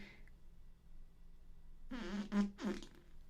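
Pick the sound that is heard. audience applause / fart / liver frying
fart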